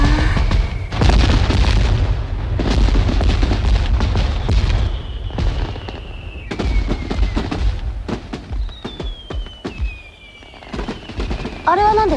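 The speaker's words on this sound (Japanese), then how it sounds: "あ、あれは花火です。" Fireworks go off in a rapid series of loud booms and crackling bursts, with whistling rockets streaking between them. The bursts are irregular and continue to the end.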